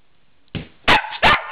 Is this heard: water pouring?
no